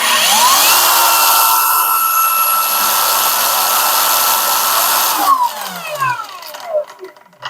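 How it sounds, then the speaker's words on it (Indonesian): A Lucid LY 8500 grinder whines at a steady high pitch at speed 2, then its tone sweeps sharply as the speed setting changes near the end, loud and close. "Oke, sekarang kita mulai dari speed 1."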